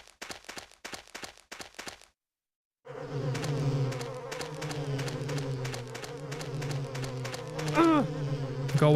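Insects buzz in the survival horror game Silent Hill 4: The Room, a dense, steady droning hum after a few sharp footstep-like taps and a brief silence, swelling slightly near the end.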